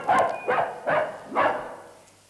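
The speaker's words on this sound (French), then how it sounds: "ça m'a l'air plutôt d'un petit chien, ça." A small dog barks four times in a steady rhythm, close and fairly loud, each yap short with a brief pause between, fading into quiet after the last one.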